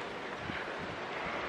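Steady outdoor wind blowing during the daytime, a broad, even rush that stays fairly faint and continuous throughout, with no talking.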